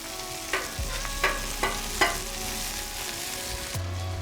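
Onions and garlic fry on a hot surface beside smash burger patties, with a continuous sizzle broken by several sharp spatula taps and scrapes, heard up close and without speech.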